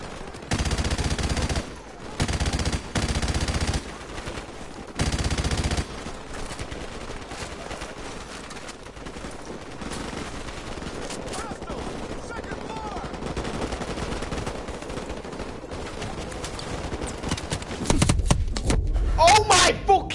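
Gunfire from a weapon in a PS4 video game, with several loud rapid automatic bursts in the opening seconds, then a quieter stretch of game noise and a final heavy burst near the end.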